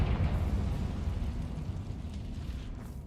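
A Confringo blasting spell goes off in a video game, a sustained low rumbling roar that stays loud and steady throughout, with no voices over it.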